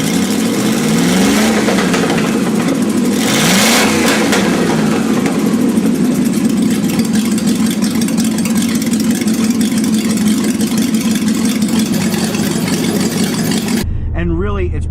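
A V8 muscle car engine, apparently a Hellcat, runs loud and close with a deep steady roar and a couple of rising revs early on, while someone talks over it.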